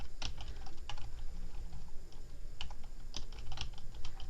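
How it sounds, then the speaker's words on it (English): Brisk typing on a computer keyboard, close up, with irregular clusters of sharp key clicks and short pauses, no voices over it. "my typing's great today"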